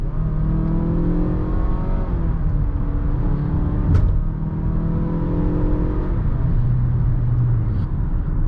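A 2020 Mazda CX-5 SUV engine revs up strongly under hard acceleration, its pitch climbing through 6-speed automatic gear changes, loud and close, with a brief click partway through.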